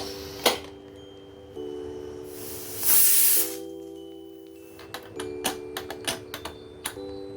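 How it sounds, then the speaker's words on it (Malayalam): A pressure cooker on a medium flame, cooking Kerala-style Christmas beef stew, lets out a short, loud hiss of steam in the middle, amid steady humming tones and a run of light clicks and ticks toward the end. "കുക്കർ അടച്ച ശേഷം മീഡിയം ഫ്ലെയിമിൽ ഒരു 3 വിസിൽ വരുന്നത് വരെ നമുക്കൊന്ന് കുക്ക് ചെയ്തെടുക്കാം."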